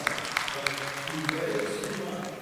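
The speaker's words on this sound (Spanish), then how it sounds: "denle al Señor palmas de alabanza" Rhythmic hand clapping at roughly three claps per second, moderately loud, mixed with voices and a low crowd murmur at a church Bible study.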